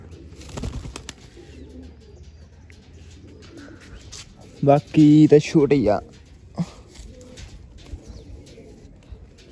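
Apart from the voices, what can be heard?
pigeons cooing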